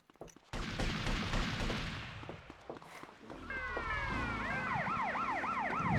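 In GTA Vice City Stories on PS2, a police car siren wails up and down in repeated sweeps, rising in after a stretch of engine and crash noise and staying loud to the end, while a voice talks over the earlier part.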